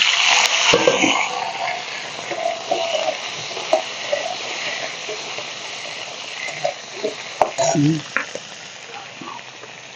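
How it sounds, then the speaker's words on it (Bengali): Potato pieces sizzle and crackle in hot oil left from frying katla fish in a kadai, a steady frying hiss with occasional stirring clatters and louder pops near the end. "এই মাছ ভাজার তেলের মধ্যেই আমি এখন আলুগুলো ভেজে নেব লাল লাল করে"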